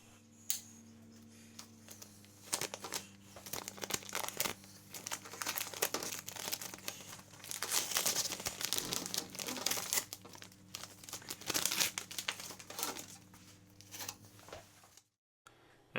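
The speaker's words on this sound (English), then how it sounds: "I'm going to remove my negative template, so the negative paper mask." A loose negative paper mask being peeled and lifted off airbrushed artwork of a wedge-tailed eagle, giving a long run of close, quiet crinkling and rustling paper sounds in irregular bursts, with no talking.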